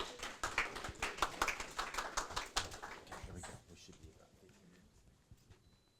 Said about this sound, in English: Let's give from the Seminole Tribe of Florida a warm round of applause to these three individuals.